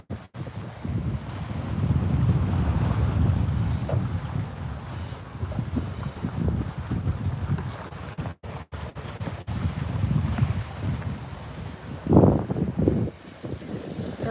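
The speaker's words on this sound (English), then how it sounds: "Yes, we're sailing right now. Let me show you. Live sailing." A sailboat under way on the open ocean, a constant rumble of wind buffeting the microphone with the wash of waves against the hull, loud and continuous with a few brief dropouts.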